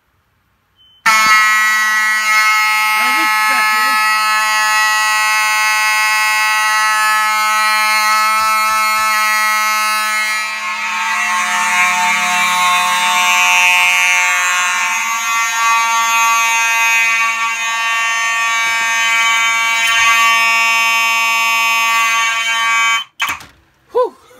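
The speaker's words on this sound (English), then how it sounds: "Now let's go ahead and test one of the ESL smoke detectors." Mechanical fire alarm horns on a test system, set off by testing an ESL smoke detector, blare one continuous loud buzzing tone for over twenty seconds before abruptly cutting off, followed by a few clicks and knocks.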